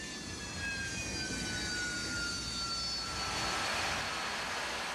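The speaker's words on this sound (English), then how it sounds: "The Harrier has one engine." An AV-8 Harrier jet aircraft roars steadily with a broad, continuous engine rush and a faint high whine, holding loud and even throughout with no voices.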